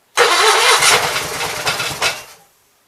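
Onan B43 twin-cylinder engine cranking and catching, a loud close burst of rough running roar that sputters for about two seconds and then cuts off.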